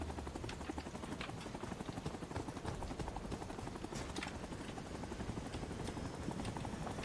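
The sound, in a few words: helicopter engine in a video game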